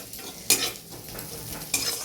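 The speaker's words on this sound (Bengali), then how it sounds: "এই পেঁয়াজটা আমার সুন্দরভাবে ভাজা হয়ে গেল" Sliced onion with salt fries in a pan, a steady soft sizzle broken by two sharp scrapes of a spoon stirring against the metal.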